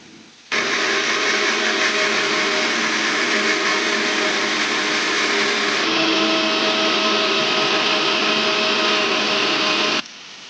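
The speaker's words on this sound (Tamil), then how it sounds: "மிக்சர் ஜாரில் 6 முந்திரி ப்ளஸ் டொமேட்டோ, இதை இப்போ நம்ம பேஸ்ட்டாக அரைச்சி எடுத்துக்க போகிறோம்." Mixer jar grinding cashews and tomato into a thick paste without water, a loud steady motor whir running continuously for about nine seconds, starting and stopping abruptly.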